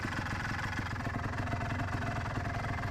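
The engine of a 1985 Honda Odyssey FL350R runs steadily with a close, throbbing rhythmic pulse, holding its revs without variation and with no voices.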